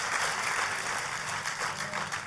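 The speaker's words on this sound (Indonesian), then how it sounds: "Kalau mau tepuk tangan yang paling meriah" Church congregation clapping together during a sermon, a steady dense patter of many hands sustained throughout, moderately loud with no talking over it.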